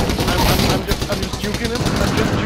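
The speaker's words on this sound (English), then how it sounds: "they're shooting me up" Rapid automatic gunfire from Apex Legends, dense bursts of close, loud shots rattling throughout, with a voice talking over the shooting.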